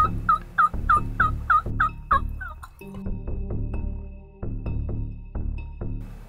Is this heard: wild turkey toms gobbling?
yes